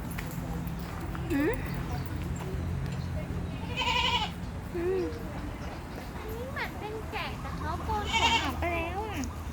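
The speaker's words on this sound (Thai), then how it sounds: "เออแพะนั่นแหละแพะแพะที่มันเป็นเขา" Goats at the Malai Farm zoo in Cha-am bleat in several wavering calls spread through the stretch, close by, mixed with people chatting and farmyard background noise.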